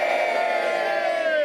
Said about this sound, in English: Give them a cheer, everybody.